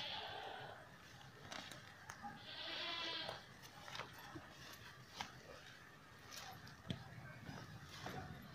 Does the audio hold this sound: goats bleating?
yes